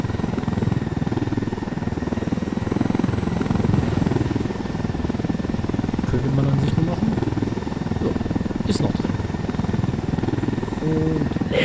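A stolen helicopter in Tom Clancy's Ghost Recon Wildlands gives a steady rotor drone that fills the whole stretch, loud and continuous, with faint low rumbles beneath and no talking.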